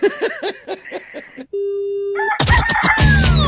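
A rooster crows in a sound effect on a Hindi radio show segment, a few clucking bursts followed by a steady electronic tone and a loud, busy jingle-like burst of sound.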